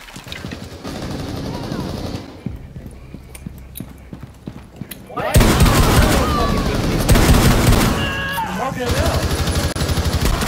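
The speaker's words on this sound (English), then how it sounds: "Did you hear shots?" Gunfire in the tactical shooter game Rainbow Six Siege, sharp rapid shots and bursts that grow louder and denser in the second half, with a player speaking over the action.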